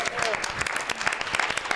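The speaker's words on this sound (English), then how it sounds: "I love how people have their cheering sections" Audience at a university debate applauding and cheering, a dense steady clatter of clapping with a few whoops, fairly close and continuous.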